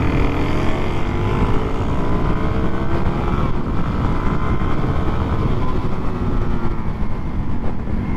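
A supermoto motorcycle riding on a track behind another rider, its engine a loud, continuous roar with shifting pitch from rising and falling revs, heard up close against strong wind noise.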